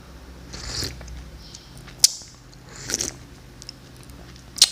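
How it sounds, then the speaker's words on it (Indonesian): Slurping sips of morning coffee up close: a few short, hissy slurps spaced apart over a quiet background, with faint mouth sounds between them. "kita coba minum kopi dulu pagi-pagi"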